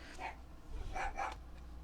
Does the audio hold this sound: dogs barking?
yes